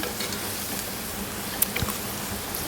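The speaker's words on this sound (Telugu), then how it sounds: "ఇవి కొద్దిగా వేగనివ్వండి" Ground spices fry in a pan for rasam, a soft, even sizzle with faint stirring scrapes and one brief clink near the middle, fairly quiet and without any talking.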